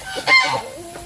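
Ducks and geese in a farmyard give a brief honking squawk, close and moderately loud, fading after about a second.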